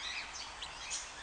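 Guinea fowl calling at a koala park, a brief burst of harsh, high chattering cries amid steady outdoor ambience.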